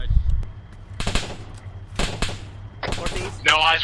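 Gunfire crackles in sharp broadband bursts during a platoon training exercise outdoors, several separated volleys and single shots over about four seconds, fairly close, with radio chatter and voices between them.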